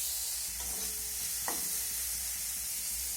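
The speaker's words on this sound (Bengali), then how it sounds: "এবার আমি গ্যাসের ফ্লেমটাকে বাড়িয়ে এই আলু আর গাজরটাকে খুব সুন্দর করে ভেজে নেব" Boiled potatoes and carrots fry over a high gas flame with a soft, continuous hiss, broken by a faint scrape or two of a spoon in the pan, fairly quiet and steady throughout.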